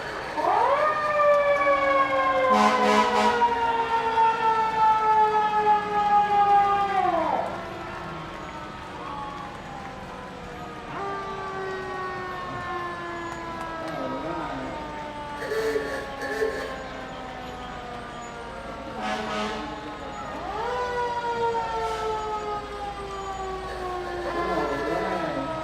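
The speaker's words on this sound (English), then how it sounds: "Look at all those fire trucks and fire engines and everything going by." Fire engine sirens wail in rising and falling sweeps as trucks pass in a July 4th parade in Nevada City, loud at first then repeating farther off, with horn blasts and crowd noise.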